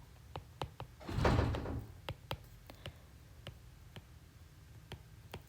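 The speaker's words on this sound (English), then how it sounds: "someone keeps shutting the outside door and it's making my office door rattle" An office door rattles in its frame as an outside door is shut, a loud broad rumble lasting about a second amid a series of sharp, repeated clicks and ticks from the loose door.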